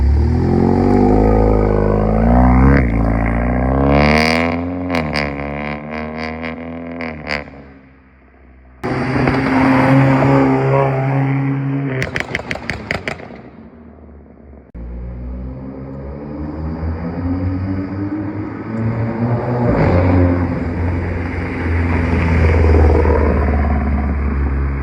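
A Stage 2 tuned VW Golf R MK7.5 passes by, engine note rising loud as it approaches with revving and gear changes, a sudden drop and a second roaring pass, then a fading rumble.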